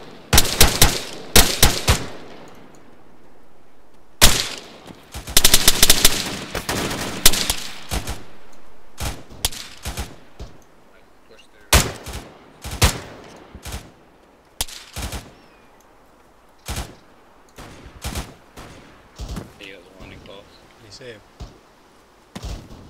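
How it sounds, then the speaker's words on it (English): Arma 3 video game gunfire exchange: sharp shots and rapid bursts crack at close range, coming in irregular clusters across the scene with pauses between volleys, while players talk over radio in the gaps. "Return fire. Permission to return fire, Bob."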